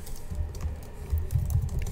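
Keys on a computer keyboard tap out a quick, uneven run of soft clicks close by during spreadsheet work, with no voices.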